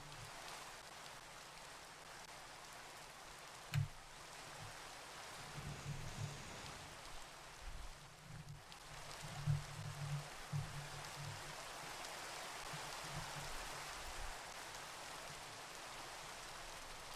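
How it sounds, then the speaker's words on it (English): Steady Minecraft rain hissing continuously for the whole stretch, soft and even, with a few low thumps and rumbles rising midway, and no talking. "Oh, the rain."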